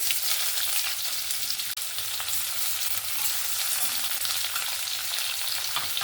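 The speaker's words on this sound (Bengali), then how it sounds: "এবার আমি এখানে দিয়ে দেব পেঁয়াজ" Onion frying in hot oil with panch phoron and bay leaf, a steady close broadband sizzle that holds evenly throughout with faint stirring, no voices.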